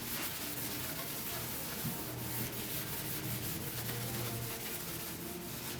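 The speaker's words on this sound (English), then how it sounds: "we're going to take 4/0 steel wool. This is the finest steel wool, and we're going to buff it." Fine 4/0 steel wool buffing the surface of a 1949 TV set, a quiet, close, continuous scratchy rubbing with a faint low hum underneath and no talk.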